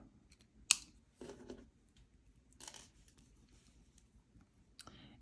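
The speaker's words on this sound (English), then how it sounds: "I'm going to take my cutters and I'm going to trim that off" Wire cutters trim jewelry wire while herringbone wire earrings are being made: a few sharp, quiet snips and clicks, close and isolated, with short pauses between them.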